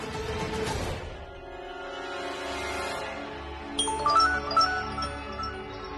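A phone's incoming-message notification chimes twice in quick succession, bright and clear, over soft background music in a Hindi TV drama scene.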